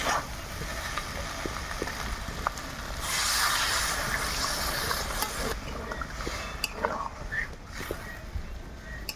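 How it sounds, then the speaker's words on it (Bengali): Water poured into a pan of cooking mustard potato dish with Malabar spinach seeds, a bright splashing hiss swelling partway through and then easing into bubbling and clinks, close and moderately loud. "এবার জল দিয়ে দেবো"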